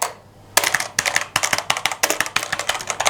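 Typing on a Cosmic Bytes GK-30 mechanical keyboard with brown switches: close, crisp keystroke clicks in quick, uneven bursts after a short silent start, with no talking.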